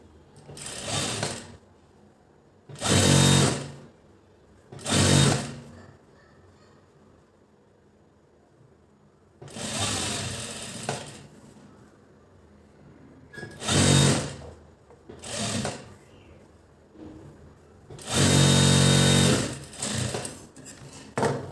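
Sewing machine stitches the bottom strip onto a garment in several loud bursts of rapid whirring, each a second or two long, separated by quiet pauses, with no talking.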